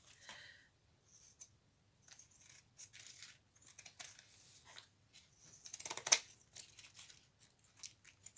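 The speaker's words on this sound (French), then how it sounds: "je vais découper tout le tour avec mes ciseaux cranteurs" Pinking shears cut around the edge of a piece of natural fabric in quiet, close snips and crunches, irregularly spaced, with one sharper louder cut near the end.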